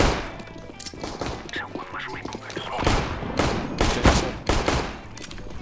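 Rapid gunfire bursts from the video game CS:GO, loud and dense, with repeated shots clustered through the middle and end, over a faint background voice.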